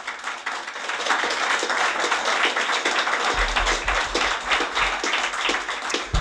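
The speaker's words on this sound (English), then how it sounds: "How about a round of applause for them?" Audience applause for the panelists at the Green Growth Summit 2022, a dense, steady wash of many hands clapping close by that holds for several seconds without talk.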